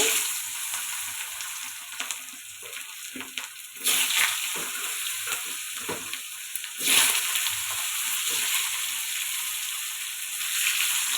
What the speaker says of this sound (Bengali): মাছ ভাজার তেলেই আমি আলুগুলো একটু ভেজে নেব